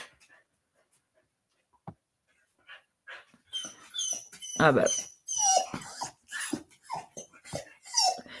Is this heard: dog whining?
yes